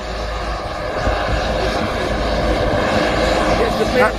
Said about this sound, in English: The plane has landed with the vaccines that were shipped from England to help us here with COVID-19.